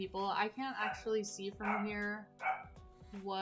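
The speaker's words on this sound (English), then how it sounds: "Oh, that's my dog barking." A male dog barks somewhere in a home, the yaps mixed into and partly buried under continuous close talking by a person.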